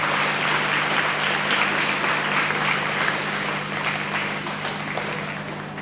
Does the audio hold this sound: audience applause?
yes